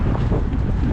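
Cold wind blowing outdoors in snowy Toronto, a loud, steady roar buffeting the microphone with no voices heard.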